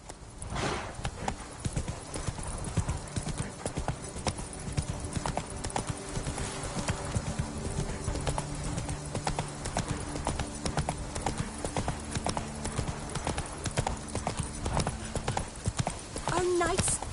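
Roach the horse's hooves clopping in a video game, a steady rhythmic clip-clop with a brief whinny, heard under ongoing talk and background sound.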